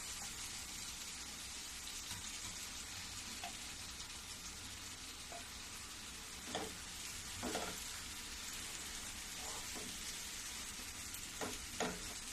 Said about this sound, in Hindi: थोड़ा देर इसको भून के फिर मैं सौंफ डालूंगी